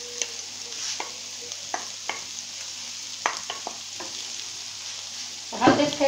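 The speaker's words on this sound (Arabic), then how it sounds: "غادي نخلط هاد العناصر كامله." Sautéed vegetables with parsley and oil-packed tuna stirred in a sizzling pan, a spoon scraping and clacking at intervals over a steady frying hiss, ending in a louder burst of stirring.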